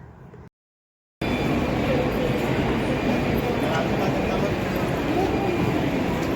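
Steady rumble and rattle of a metro train carrying passengers after a line change, loud and continuous once it starts following a short silence, with voices speaking faintly over it.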